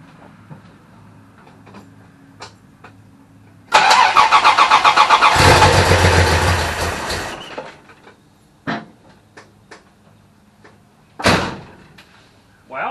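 A Dodge Ramcharger slant six engine that had been sitting nine months starts after a few clicks, roaring loudly for several seconds before settling, followed by a couple of sharp door-like bangs.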